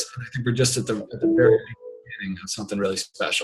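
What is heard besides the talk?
mobile phone ringing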